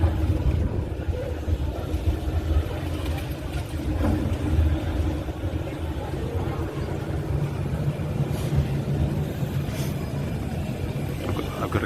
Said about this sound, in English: There's a tram for you.